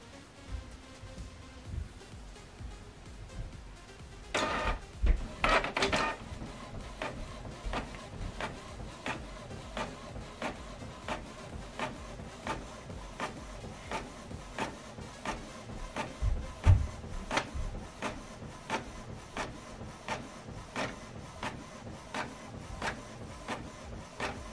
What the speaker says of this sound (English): So the good job about this printer is the printer is able to do this automatically.